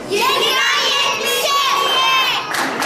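A crowd of children shouts a phrase together at a Barış Manço photography exhibition event, a loud, close burst of voices that rises, dips briefly and ends with cheering.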